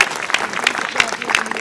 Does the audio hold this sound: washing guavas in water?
no